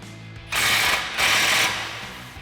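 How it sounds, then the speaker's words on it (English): A socket ratchet loosening a 21mm nut on a Jeep Gladiator JT steering knuckle, two loud close bursts of fast clicking from the pawl separated by a short pause. "Now we're going to loosen up the 21mm nut on our knuckle,"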